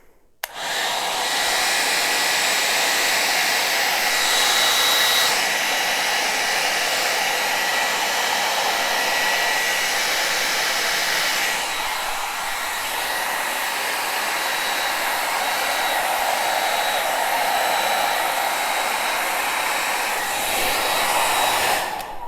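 White acrylic paint being blown across a Dutch pour fluid acrylic painting with a hair dryer, a loud steady blowing roar running the whole time with slight swells and dips, no talking.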